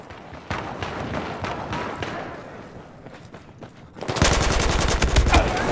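Gunfire from the video game Battlefield 4 sounds as repeated sharp bursts of shots, sparse at first and then a loud, rapid automatic volley near the end, with game ambience between the bursts.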